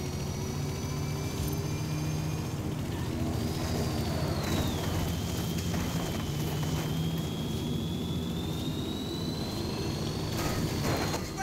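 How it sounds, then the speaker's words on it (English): A helicopter in the racing game Forza Horizon 5 drones steadily with a low rotor rumble and a whining turbine tone that rises and falls, constant and fairly loud throughout with no talk. "Follow the chopper."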